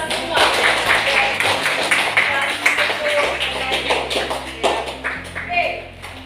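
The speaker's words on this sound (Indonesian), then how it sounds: "beri tepuk tangan untuk kita semua" A classroom group claps together after a student presentation, a dense steady patter of many hands lasting several seconds at fairly close range, with some murmuring voices mixed in.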